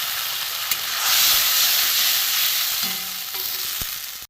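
A paste of turmeric, chili, cumin and coriander fries in a pan for a lightly spiced ridge gourd and pea dal, giving a steady close sizzle and hiss that swells briefly, with a few faint clinks of stirring near the end.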